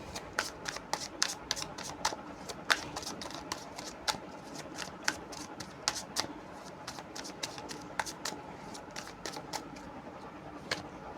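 Tarot cards are shuffled by hand in a rapid run of crisp, papery riffles and snaps, close and distinct, continuing steadily with no voice over them.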